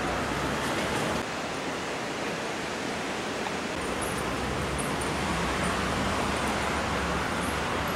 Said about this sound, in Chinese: 那个河水从那边冲过来。